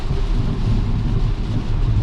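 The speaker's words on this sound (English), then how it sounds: "Ooh, thunder" Low rumbling thunder rolls steadily beneath a constant wash of heavy rain during severe weather, heard from a Tesla Model X on a highway, a deep sustained roar with no voices.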